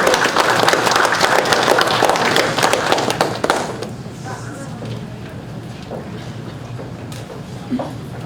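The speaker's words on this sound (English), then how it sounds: "how about round of applause" A crowd applauds loudly for a few seconds, then the clapping fades into room noise with a few scattered claps.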